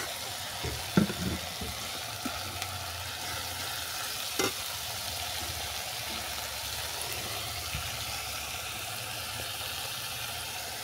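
Poppy seed paste and grated tomato fry in a pan with a steady, low sizzle, broken by a few soft stirring clatters near the start and in the middle.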